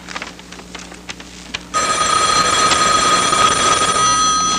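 A telephone bell rings loudly and continuously in a home setting, starting abruptly partway through and sustaining a bright, steady trill to the end, with no talk over it.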